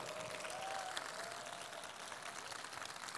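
Applause in a large hall at a church summer retreat welcoming a guest: a steady, diffuse wash of clapping from a big crowd, moderately distant, with faint crowd murmur underneath.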